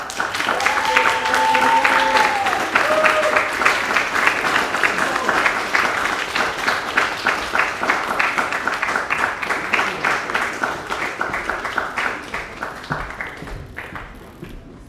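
Audience at a senior gala applauds loudly and steadily, a dense wash of many hands clapping that slowly thins toward the end, with a brief voice or cheer near the start.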